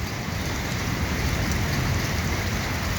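Heavy rain pours down steadily during a thunderstorm, a dense, continuous hiss and patter that stays loud and even from start to finish, with no voices.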